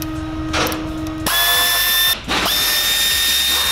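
A power tool whines loudly as it works on an upper control arm bolt of an NA6 Mazda Miata. The ratcheting drive runs in two long, close bursts separated by a brief pause.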